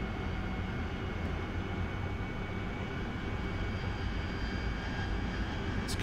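An AV-8B Harrier jet in flight in the DCS combat simulator gives a steady, loud engine roar that holds constant throughout, with no voices.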